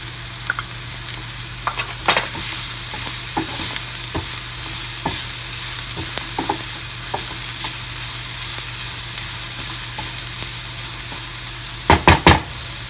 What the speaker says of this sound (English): It will take around 1 to 2 minutes to cook this carrot.